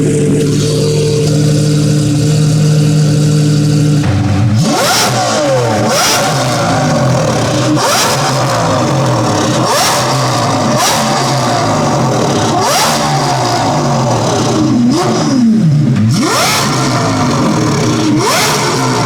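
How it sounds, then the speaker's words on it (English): A 2025 Rolls-Royce Cullinan Series 2 engine is revved hard, very loud and close, a steady idle tone giving way to repeated rising rev sweeps every couple of seconds. "Let's do a rev check for them."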